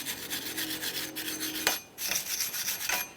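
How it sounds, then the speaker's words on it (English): A wire brush scrubs the brake rotor mounting hub of a 2013-2015 Chevrolet Malibu in steady, close, rasping back-and-forth strokes, pausing briefly between passes. "we're going to continue on with cleaning the mounting point where the brand new rotor will sit. You can use a wire brush for this."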